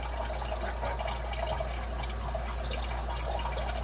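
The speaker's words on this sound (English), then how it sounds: "That is a tremendous amount of water coming out of the bottom of that chain plate." Water draining from a drilled hole beneath a sailboat chain plate, a faint steady trickle and dripping against a constant low hum, no talk.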